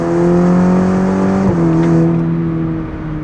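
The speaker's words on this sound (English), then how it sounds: "And here are some downshifts." A Cadillac CT4-V sedan downshifts in performance shift mode. The engine drones loud and close with a steady tonal note, then a sharp blip at a gear change, after which the pitch settles and fades slightly.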